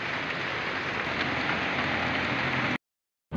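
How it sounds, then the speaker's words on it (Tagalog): Heavy rain pours in a dense, steady hiss close by for a few seconds, then cuts off abruptly into silence. "Ayan, oh, malakas ang ulan guys."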